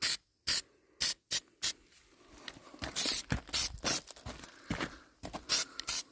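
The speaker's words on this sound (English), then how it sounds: "quick little spray" Short bursts of aerosol spray hiss close by onto new rear corner panels and sill of a Jeep TJ, several quick puffs in an irregular rhythm, followed by a longer run of rapid sprays.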